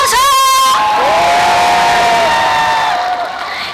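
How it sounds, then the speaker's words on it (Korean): A festival crowd at the Jindo Bobaeseom cultural festival erupts in loud, sustained cheering and clapping, with shrill shouts and whoops rising over the dense roar before it slowly eases. "좋으시다면 다 같이 박수와 함성"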